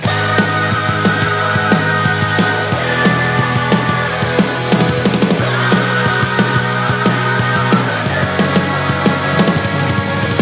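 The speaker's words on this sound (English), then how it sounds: "washy high notes playing some dissonant melody voices" Washy, reverberant high synth notes trace a dissonant, spooky melody over a dense, continuous musical bed, loud and sustained with shifting chords and no voices.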